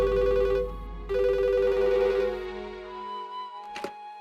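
A telephone in a home rings with a repeating electronic tone. Two clear bursts of the ringtone come close and moderately loud, then it stops and a brief thunk follows.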